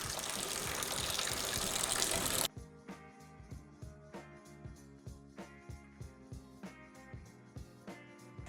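Homebrewed beer wort gushes loudly into a fermenting bucket, then gives way to a steady rhythmic pumping or dripping pattern repeating about every second.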